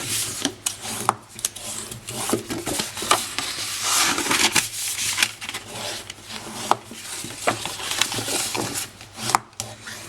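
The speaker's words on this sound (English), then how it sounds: "let's start by folding and burnishing those score lines" Paper score lines being folded and burnished by hand for a large gift box give close, soft rubbing and scraping strokes in an irregular rhythm, with light taps and rustles between strokes and no talk.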